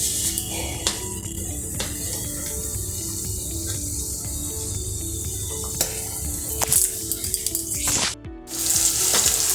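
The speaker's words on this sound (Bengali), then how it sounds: "কড়াইয়ের তেলের মধ্যে দিয়ে দিয়েছি।" Whole cloves and cardamom frying in oil in a wok for Kashmiri aloo dum, a continuous close sizzle with scattered clinks and a brief break near the end.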